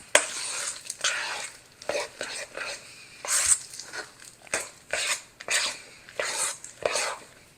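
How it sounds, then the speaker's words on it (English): Mini chocolate chips are stirred by hand into thick cake batter in a bowl, producing repeated close swishing and scraping strokes in an uneven rhythm. "And just stir that by hand, only to get the chocolate chips incorporated."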